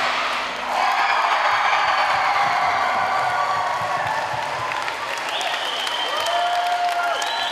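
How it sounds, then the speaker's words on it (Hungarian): Hundreds of spectators applaud a joint dance choreography closing a 24-hour dance record attempt, a dense, loud, steady wash of clapping with scattered cheers and whoops that continues without a break. "Ekkor már a 24. órát lezáró, közös koreográfiának tapsolhatott a több száz néző."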